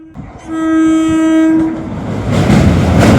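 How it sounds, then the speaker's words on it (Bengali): A train pulls into Kalipur Hattala station on the Tarkeshwar–Bishnupur line, sounding a loud, sustained horn for over a second, then the rumble and clatter of rolling cars swelling close by. "এরকম ট্রেন এসে গেছে"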